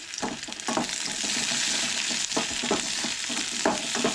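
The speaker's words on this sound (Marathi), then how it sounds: "तेच्या उपरांत टमाट हे सगळें बरें न्हू तळसळून घेवंक जाय" Onion, garlic and chili fry in oil for a Goan egg curry, a loud steady sizzle up close with repeated stirring scrapes and no voices.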